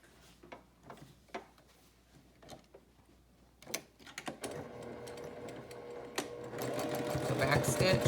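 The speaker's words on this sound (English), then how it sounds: "So backstitch, sew, backstitch, then backstitch, sew the dart" A sewing machine stitching a dart in fabric starts with a few short bursts of rapid ticking. It then builds into a steadier, louder run of stitching near the end.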